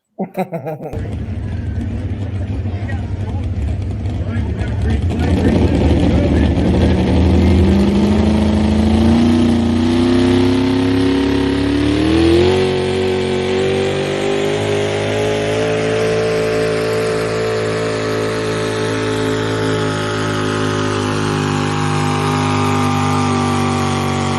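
Big Ford pulling trucks roar at full throttle while dragging a heavy drag sled, one loud sustained engine howl climbing steadily in pitch for over twenty seconds with no break.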